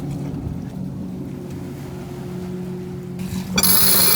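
A motorboat engine drones steadily on open water, heard from a sailboat as it passes fairly close, with a constant low hum and wind noise, then a brief louder broadband rush near the end.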